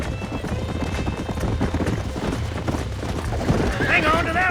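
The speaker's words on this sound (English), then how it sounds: "There's the horses!" Horses gallop in the Red Dead Redemption video game, with rapid hoofbeats under voices and music and a whinny near the end.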